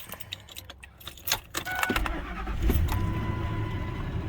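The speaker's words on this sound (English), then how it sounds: "turn on your car." A car engine cranks and catches on a cold, frosty morning, preceded by keys jangling and door handling, then settles into a steady low idle rumble close by.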